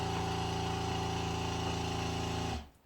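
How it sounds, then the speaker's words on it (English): A Mangar leg lifter's air compressor hums steadily at close range as it inflates the lifting cushion, a constant tonal motor drone that cuts off abruptly near the end, with no speech. "the compressor will start to push air into the cushion"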